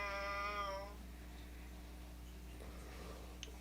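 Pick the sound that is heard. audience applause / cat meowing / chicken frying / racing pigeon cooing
cat meowing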